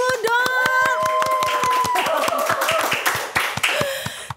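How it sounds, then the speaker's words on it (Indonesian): Podcast studio audience clapping in a steady burst of hand claps, fairly close and loud, with a voice speaking over the first part. "Tepuk tangan dulu dong."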